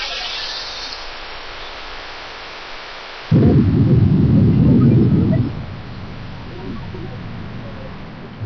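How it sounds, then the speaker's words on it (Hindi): A flood-swollen river rushes after heavy rain, a steady broadband roar that swells into a louder, low rumbling surge in the middle before easing back to a constant wash. "अगर आप नदी के बहाव को देखेंगे, नदी के बहाव की तेजी को देखेंगे"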